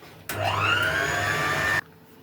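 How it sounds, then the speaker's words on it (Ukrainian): An electric hand mixer whips a Baileys-style drink mixture with half a litre of alcohol base added, a steady loud whirring burst of about a second and a half that starts and stops abruptly. "Додали пів літра алкогольної основи і знову все міксером гарно збиваємо."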